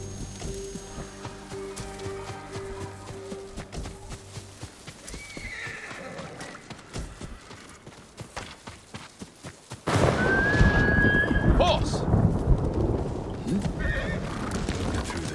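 A horse whinnies loudly and hooves clip-clop amid Ghost of Tsushima game sound effects, with a burst of louder action and scattered sharp noises later on.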